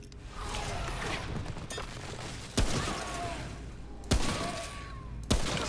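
Three loud gunshots ring out at even intervals in Remnant: From the Ashes on Nightmare difficulty, each a sharp crack over a steady bed of game ambience, with no talking.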